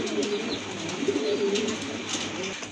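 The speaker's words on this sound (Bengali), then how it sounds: "আরেক জোড়া কবুতর কোয়ালিটি ফুল কবুতর দেখার মতো" Pigeons being offered for sale coo repeatedly, close and clear, with soft rolling calls overlapping through the stretch and faint chirps in the background.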